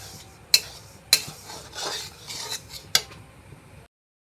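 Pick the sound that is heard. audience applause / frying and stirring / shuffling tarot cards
frying and stirring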